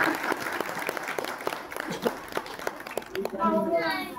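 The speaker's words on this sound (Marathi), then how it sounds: "जोरदार टाळ्या वाजवल्या पाहिजे" Applause from a crowd gathered at Shivneri Fort, a steady patter of many hands clapping close by under a voice, which gives way to chatter toward the end.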